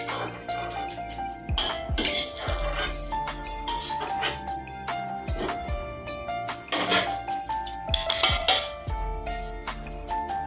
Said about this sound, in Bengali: এখানে 3টা ডিমটাকে গুলে নিচ্ছি।